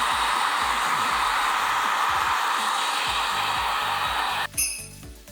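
A hair dryer blows a loud, steady whoosh close by while drying hair, then cuts off abruptly, followed by a few light clinks.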